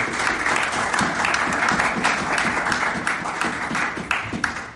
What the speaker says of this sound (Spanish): Denle un fuerte aplauso al Rey de Reyes y Señor de Señores.